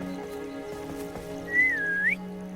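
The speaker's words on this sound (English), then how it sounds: "she whistled, so that's probably a flying beast" A character in Hogwarts Legacy gives a single rising, wavering whistle lasting about half a second to call a flying beast, heard over a steady low game ambience with faint hoof-like clatter.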